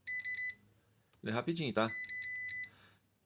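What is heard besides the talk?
ZOYI ZT-XT1 multimeter continuity test beep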